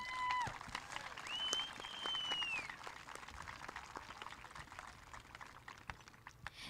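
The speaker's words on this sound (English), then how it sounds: "Let's give them one more round of applause." Audience clapping at a school culmination ceremony, a dense patter of many hands with whistles or cheers rising over it near the start, then slowly thinning out.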